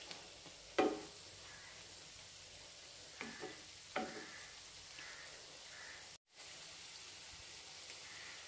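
Sprouted green gram vadas fry in coconut oil with a quiet, steady sizzle, punctuated by a few soft clinks and stirring sounds from a utensil.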